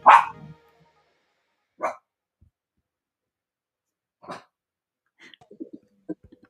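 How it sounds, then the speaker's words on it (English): A dog barks in the background at the close of a radio news bulletin: a few sharp, separate barks spaced a couple of seconds apart, then a run of shorter, quieter yaps. No one speaks. "the dog barking at the end of the news there."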